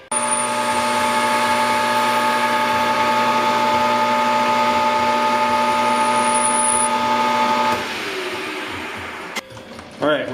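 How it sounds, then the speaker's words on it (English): A lathe machining a metal gyroscope part runs with a steady, loud machine whine and cutting hum that carries on for several seconds before winding down. "let's go ahead and machine this down"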